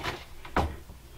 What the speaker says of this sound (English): I can't get this door open